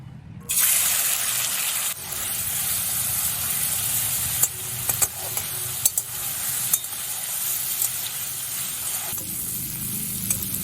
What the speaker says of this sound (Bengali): এই চিংড়ি মাছগুলো আমি তেলের মধ্যে ভেজে নেব